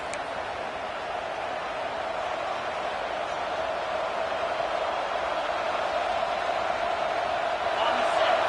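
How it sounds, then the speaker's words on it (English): A large stadium crowd at an Auburn football game roars continuously and loudly, a dense, sustained wall of noise that swells slightly toward the end. "Listen to this crowd just shaking the girders of this place"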